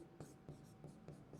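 Chalk or marker writing on a board during a soil chemistry lecture, five short scratchy strokes at a fairly even rhythm, close and fairly quiet, with no talk over them.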